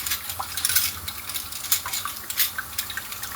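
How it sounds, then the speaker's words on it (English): Dirty dishes rinsed under a running kitchen tap, with a steady hiss of water and scattered clinks and clatters of dishware close by. "I'm rinsing my dirty dishes, my clean dishes, and I'm rinsing."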